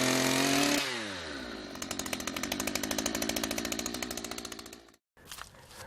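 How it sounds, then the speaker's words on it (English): A high-torque, low-speed electric drill bores a hole through a roundwood timber-framing joint, its motor whirring with a steady rapid pulsing for several seconds before stopping abruptly, with no talk. "high torque, low speed electric drills are also fine for doing this type of drilling."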